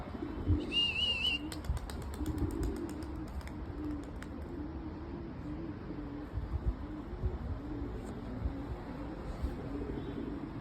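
Domestic pigeons in a loft, including Arab-breed birds, cooing in low repeated rolling calls across the whole stretch, with a brief higher chirp near the start and faint rustling in the background.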